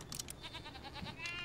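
A short, wavering bleat from a sheep in the video game Skylanders Trap Team, fairly faint, over a low background hum.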